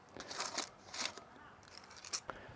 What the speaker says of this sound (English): I put in some tin foil